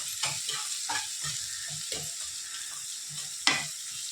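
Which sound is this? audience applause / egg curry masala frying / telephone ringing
egg curry masala frying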